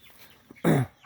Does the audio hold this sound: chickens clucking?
yes